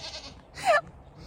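Goats on a farm give a single short bleat, louder than the quiet outdoor background, with no talking.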